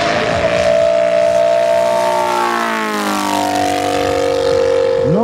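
Loud, steady drone of a 1/3-scale radio-controlled Zlin 526 aerobatic model airplane engine, its pitch sweeping up and down as the plane passes and maneuvers, with no voices over it.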